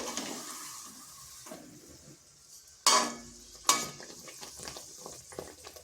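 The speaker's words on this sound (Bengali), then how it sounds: "তো এইভাবে আমি সবগুলো ভেজে নিচ্ছি" Bakul pitha cakes frying in oil over a medium flame, a steady soft sizzle with clinking utensil and pan knocks, including two sharp close clanks partway through, no talk.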